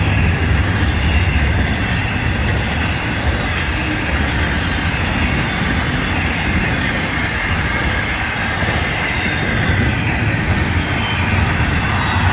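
Florida East Coast Railway freight train FEC 107 rolls past close by, a loud continuous rumble of wheels and cars with metallic squeal and clatter, steady throughout with no talking.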